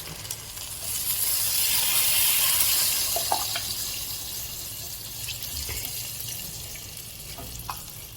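Water poured into a one-pot chicken and rice biryani with onions and green chili, a hissing, bubbling sizzle that swells then settles, with a few small clinks of stirring.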